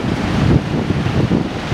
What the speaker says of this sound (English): The kids are braving the cold Pacific Ocean. It's actually not too bad. They love the waves.